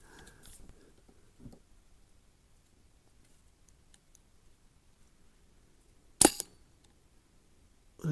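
A Brocock Ranger XR .22 sub-compact airgun fires once, a short sharp snap standing out from quiet surroundings, preceded by a few faint clicks and handling sounds.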